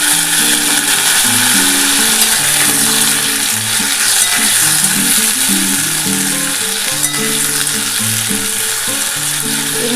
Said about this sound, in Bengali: আমি কিন্তু এর মধ্যে প্রথমে আলু আর সজনে ডাঁটা একসাথে ভাজবো